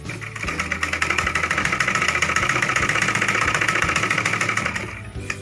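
A sewing machine stitches a high neck blouse in a fast, steady mechanical rattle of rapid needle strokes, running close and continuous for about five seconds before slowing to a stop.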